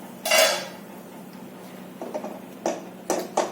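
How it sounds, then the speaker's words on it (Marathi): A metal lid comes off a cooking pot of jowar flour dough after steaming on a low flame, with one sharp clatter followed by several lighter clinks and taps, close and distinct against a quiet background. "हे बघा झाकण काढायचं"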